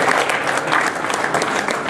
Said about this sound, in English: Round of applause for Ruth and Gabby from Blue Green Design.